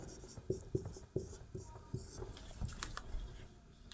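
Writing on a board during a physics lesson: a few sharp taps followed by scratchy strokes, quiet and close.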